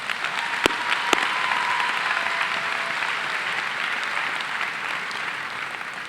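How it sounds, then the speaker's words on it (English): Sustained applause from a graduation ceremony crowd honoring the band program, a dense steady wash of clapping with a couple of sharp louder claps near the start. "Can we have a round of applause for them as well"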